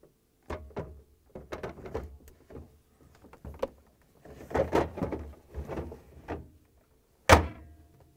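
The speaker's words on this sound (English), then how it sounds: "And then close the door." Parts of a refrigerator are handled and the fridge door is shut after an icemaker install on a Whirlpool, KitchenAid or Maytag unit: scattered plastic clicks and shuffling bumps, ending in one sharp close thud.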